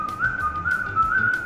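A person whistles a clear, loud, wavering tune in a home training room while getting ready to ride on an indoor cycling trainer, sounding alone and close with little else behind it.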